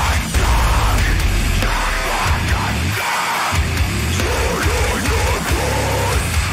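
Very low tuned, heavy guitar riffing sounds loud and continuous, with thick low chugs, one short break midway, and bending melodic notes above.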